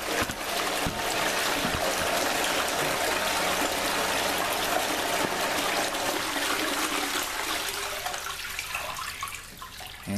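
Water rushing steadily through a gold sluice box, a loud continuous wash that tapers off toward the end as the flow is shut off.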